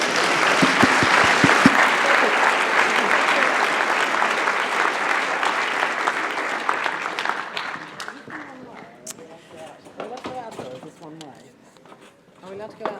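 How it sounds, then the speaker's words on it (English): An audience at a lecture celebrating general relativity claps loudly for volunteers; the dense applause fades after several seconds into scattered claps as voices take over. "please let's give our volunteers a round of applause"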